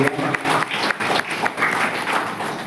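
Audience applause at a Brahma Kumaris spiritual gathering: a sustained, dense patter of many hands clapping at once, steady and fairly loud for the whole stretch, with no clear pauses.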